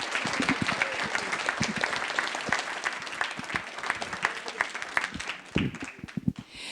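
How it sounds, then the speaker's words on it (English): Applause from a modest crowd at a town hall meeting, individual claps standing out sharply within a looser, uneven clatter that stays fairly close and fades near the end. "Could we give them another round of applause?"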